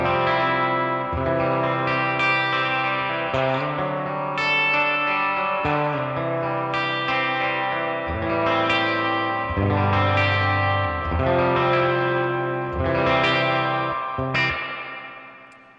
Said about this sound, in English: it is a beautiful spring reverb, but it is tube driven, so it really, really has a nice tone to it